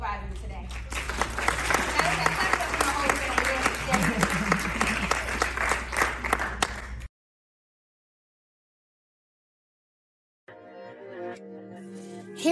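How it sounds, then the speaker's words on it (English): An audience at a talk breaks into dense, steady applause for several seconds, then cuts to sudden silence, followed by quieter room sound near the end. "And y'all can clap it up for my mother."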